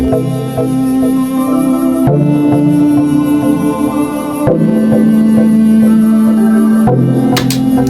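Steady electronic synth beat made almost entirely with the Patcher plugin in FL Studio, with sustained tones and layered harmonics, changing sections every couple of seconds, loud and continuous with no voices.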